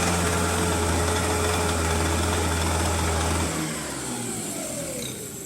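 A Rotax Max racing kart engine revs wide open, a loud steady high-pitched drone that drops off after about three and a half seconds as the throttle eases.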